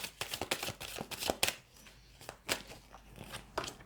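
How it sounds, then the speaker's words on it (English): Tarot cards shuffled by hand in a quick series of crisp riffling and slapping bursts, near and moderately loud, with short pauses between handfuls and no talk. "Just give this a shuffle"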